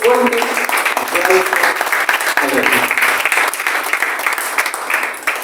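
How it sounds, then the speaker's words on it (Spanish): Church congregation applauding during a Sunday service, a full, sustained round of clapping from many people, with voices calling out over it early on before the clapping gradually fades. "Y a mí denle un fuerte aplauso a Dios."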